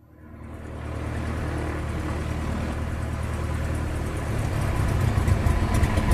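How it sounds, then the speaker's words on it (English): An aircraft piston engine idles with its mixture leaned until it stumbles, a steady broadband roar that builds in the first second and then runs on with slight roughness, close and alone. "Lean the mixture until the engine stumbles at idle."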